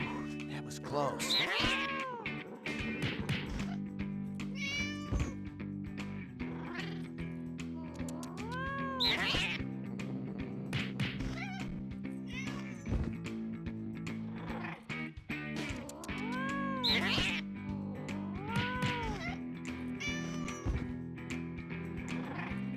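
A cat meows repeatedly in the video game No More Heroes 2, several drawn-out, rising-and-falling cries spaced across a long stretch, heard over game background music.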